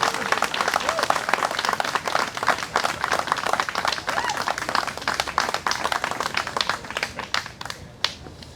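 Audience applause after a blues performance at a museum of art event, a dense patter of many hands clapping, steady and fairly close, tapering off near the end.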